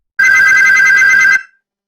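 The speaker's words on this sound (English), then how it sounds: "Let me phone him now." A telephone bell rings loudly and alone in one steady burst of just over a second, then cuts off into silence, like an incoming call.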